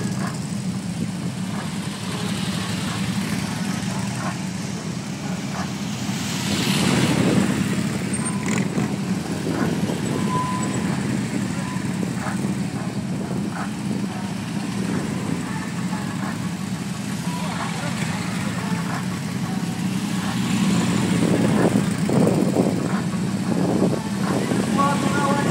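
Police motorcycles ride in formation during a precision riding show, their engines humming steadily at mid pitch and swelling slightly as they pass. An announcer talks over the engine noise throughout.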